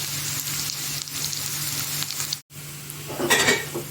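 Onion frying in a pan gives a steady, close sizzle, then a brief stirring clatter near the end.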